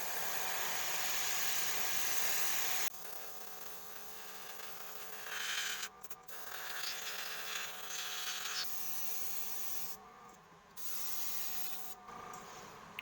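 An airbrush sprays a light mist of paint in a faint, airy hiss that starts and stops in short bursts, with soft handling noises between passes.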